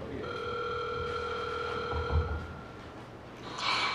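A telephone rings over a speakerphone at a Rotary Club meeting in Beaufort, a steady electronic ring tone lasting about two seconds, slightly distant against low room hum.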